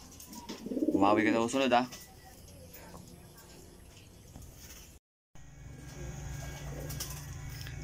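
Racing pigeons coo in a short burst of calls near the start, with a person speaking over them, then quieter ambient bird sounds follow, during pigeon loft training in Rosario, La Union.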